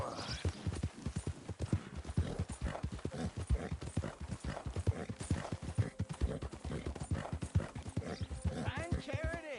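Horse hooves clip-clop steadily and close in Red Dead Redemption 2, a quick regular rhythm running the whole time, with a brief whinny near the end and someone talking over it.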